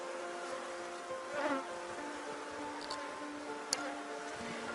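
A honeybee swarm at a hive being inspected, giving a continuous droning hum close by with a few sharp knocks and no speech.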